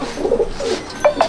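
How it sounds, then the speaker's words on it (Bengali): Andhra Kalanka pigeons in a loft at Subhasgram give a few close, low coos, ending in two sharper rising notes. "এই হচ্ছে পায়রা, আন্ধ্রা কালাঙ্কা।"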